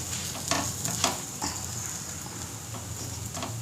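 Tomatoes and onions sizzle in hot oil in a pan, with a steady crackling frying hiss and a few louder stirring scrapes throughout, close by with no talking.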